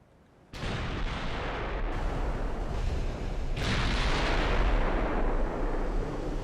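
Battleship main guns fire salvos in the naval game Ultimate Admiral: Dreadnoughts, a sudden heavy boom launching into a sustained rumbling roar, with a second blast layered in partway through, loud and continuous.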